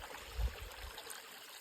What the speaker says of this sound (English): What a beautiful creek.